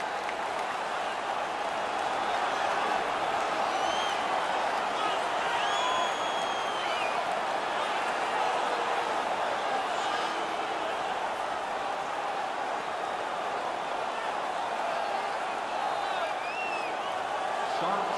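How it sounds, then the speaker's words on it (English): A large arena crowd in a video game ice hockey playoff game roars and cheers continuously, a loud, steady wall of voices with scattered whistles and whoops rising above it. "The home crowd is ecstatic."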